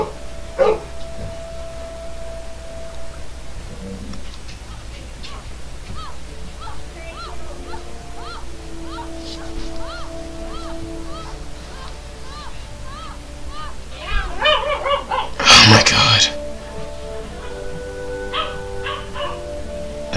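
Dogs in The Witcher game bark, yip and howl in a repeating series of short calls across the scene, with a louder burst near the end, under steady background ambience and occasional game sounds.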